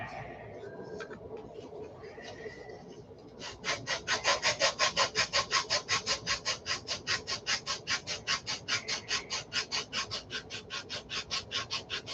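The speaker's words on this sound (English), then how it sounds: "I need my stick with the sandpaper on it for the inside." Rhythmic back-and-forth rasping of sandpaper scrubbing a surface, starting after a few seconds and repeating quickly and evenly at close range.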